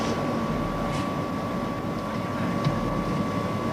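A ship's engines running at fast forward, a steady continuous rumble with a constant tonal hum, heard alone with no talk.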